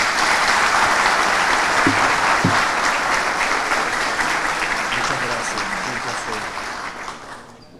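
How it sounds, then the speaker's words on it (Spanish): An audience at a university conference hall applauds to welcome a speaker, a loud, full burst of clapping that slowly thins and fades over several seconds, with a few voices mixed in. "A él, con un fuerte aplauso, recibimos en estos momentos."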